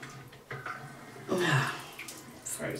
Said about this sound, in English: And I'm going to empty this water out.